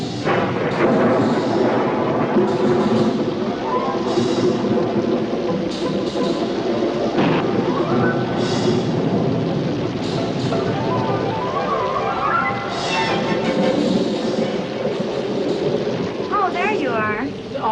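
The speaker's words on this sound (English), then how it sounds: "Quite a storm, isn't it?" Thunderstorm with heavy, steady rain and repeated rumbles of thunder, loud and continuous throughout, with voices talking over the storm now and then.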